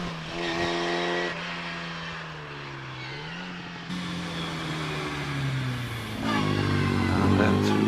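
A 1380cc Frog Eye Sprite races up the Prescott hill climb, its engine note rising and falling through gear changes, then building to a loud, strained rev as it accelerates close by.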